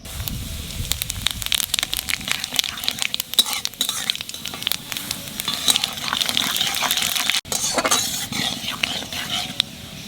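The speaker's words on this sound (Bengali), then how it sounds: "তেলের উপর দিয়ে দেবো জিরে আর কালো জিরে" Cumin and black cumin seeds crackle and pop as they sizzle in hot oil, a steady dense frying hiss with sharp spattering ticks close up, and a brief spoken remark partway through.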